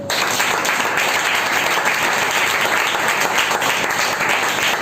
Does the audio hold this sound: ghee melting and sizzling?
no